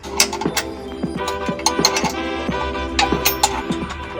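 Bolts being tightened on a GKTech diff brace under a Nissan 370Z, a steady run of quick metallic ratchet clicks with sharper clinks, close and clear with no talk.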